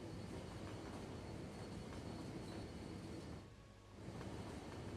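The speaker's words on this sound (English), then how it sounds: "We've got passengers getting onto the train." A passenger train in Cities: Skylines gives a continuous low rolling rumble with faint rail noise. It is quiet and steady, with a brief dip near the end.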